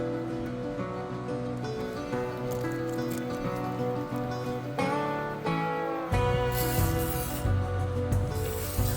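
Frost King foaming cleaner hisses in a steady spray onto the coils of an RV air conditioner, a continuous close rushing sound with a brief break near the end.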